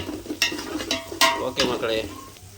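Onion masala for Ambur chicken biryani fries and gets stirred in a pan over medium heat. A steady sizzle runs throughout, broken by several scraping stir strokes with brief louder bursts. There is no talking.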